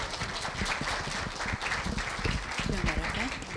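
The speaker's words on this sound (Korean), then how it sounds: "박수로 맞아주십시오" An audience at a Korean middle school speaking festival applauds continuously as a guest judge is welcomed onstage, a dense, moderately loud patter of clapping with speech mixed in.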